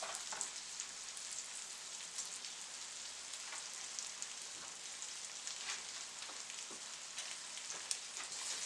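Overnight rice frying in a hot pan for beef fried rice, a steady dense sizzle with faint crackles throughout and no talking.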